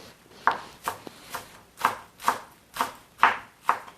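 A knife chops green onion on a cutting board in about nine crisp, evenly spaced strokes. Each close, clear cut stands alone over a quiet background.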